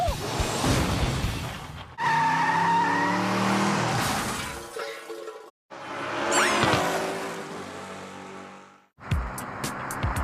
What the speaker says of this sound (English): Canada's worst drivers learn how to do a controlled spin-out using their handbrake